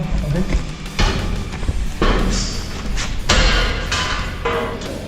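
Firefighters force open a door during a rescue and firefighting drill, with a series of heavy thuds and slams spaced about a second apart, loud and close, and scraping and shouting between the blows.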